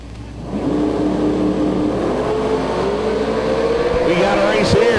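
A 1972 Corvette drag car with a 572 cubic inch nitrous engine rumbles steadily at the strip, a loud sustained engine drone under an announcer's talk, building slightly toward the end.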